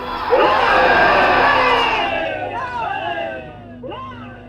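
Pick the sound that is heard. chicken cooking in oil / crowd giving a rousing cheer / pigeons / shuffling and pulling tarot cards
crowd giving a rousing cheer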